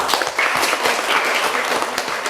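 Classroom applause for a student group during an exam lesson, a short burst of dense, even clapping from many hands that keeps going at steady loudness.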